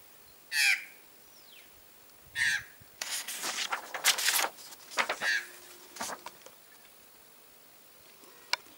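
Crows caw in spring, several separate harsh calls spaced across the stretch, clear and moderately near, with fainter rustling and pattering between them and no talk.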